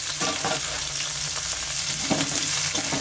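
Chopped onion pieces frying in a pan to brown for a loitta shutki dish, a loud, continuous close sizzle with repeated spatula stirs and scrapes.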